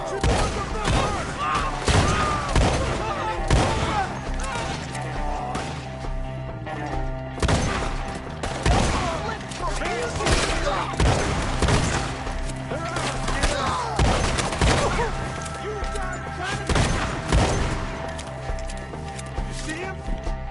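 Rapid bursts of gunfire crackle through a Red Dead Redemption shootout on PS4, loud and repeated in clusters across the whole stretch, mixed with hoofbeats and running, while voices shout over the action.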